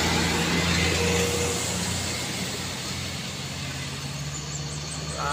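A heavy Isuzu truck labours up a steep climb on the Kedabuhan incline, its engine droning steadily and loud with a deep low rumble throughout, close by and with no talk.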